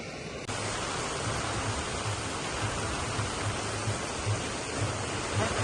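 Steady rushing water from waterfalls along a roadside near Manthikai in Jaffna, a continuous broadband roar that holds loud and even from start to finish with no voices.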